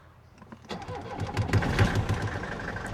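A 1969 Mercedes 220 diesel engine cranks briefly, then fires and settles into a clattering, rough idle that grows louder and fuller within a few seconds.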